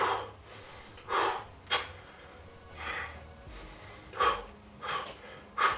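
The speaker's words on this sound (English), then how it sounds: "So I'm like crossing the hemispheres, and I'm breathing in." Deep, deliberate breaths drawn in one after another during a personal ritual, each inhale a soft airy rush, close and fairly quiet, with pauses between them and no speech.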